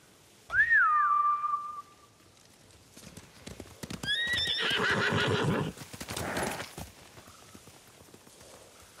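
A horse whinnies loudly near the start, then hooves clatter and shuffle along with more whinnying, fading to quiet near the end; samurai horses in the video game Ghost of Tsushima.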